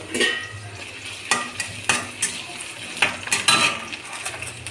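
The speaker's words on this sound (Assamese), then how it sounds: "তাৰপিছত সেইখিনি তেলতে এয়া পিঁয়াজকেইডোখৰ ভাজি ল'ম। পিঁয়াজখিনি তেনেকৈ ৰঙা হৈলৈকে ভাজি ল'ম।" Onion pieces and bay leaves fry in oil in a pan, a low sizzle under repeated close clinks and scrapes of a utensil stirring against the metal, several sharp taps spaced through the few seconds.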